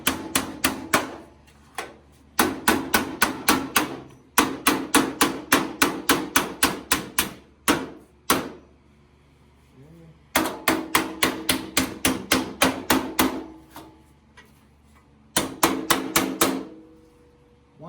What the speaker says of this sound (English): I'll take my hammer and I'm slowly going to start tapping that over